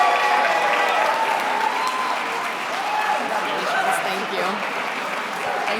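Sustained audience applause at a civic leadership academy welcome ceremony, steady and dense for several seconds, with faint voices mixed into the crowd noise.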